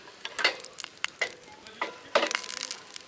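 Steak sizzling in a hot pan at an outdoor bushcraft gathering, quiet crackle with scattered sharp spits and pops, no talk.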